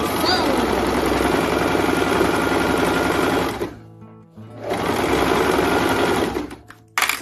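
A sewing machine stitching the body of a tote handbag: a fast, steady mechanical whir runs for several seconds, stops briefly, then resumes at the same pace before halting.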